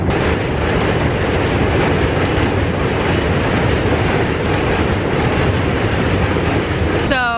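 A train rumbles loudly and continuously overhead on a bridge in DUMBO, Brooklyn, a dense roar with rattling clatter, ending with a brief high metallic squeal.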